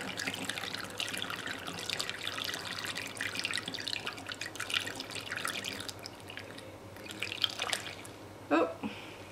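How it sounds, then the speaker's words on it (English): Botanical dye liquid poured slowly into a bottle, a steady close trickle and dribble of liquid with small drips, continuing throughout with a few louder splashy moments near the end. "we'll just pour this slowly into the bottle here"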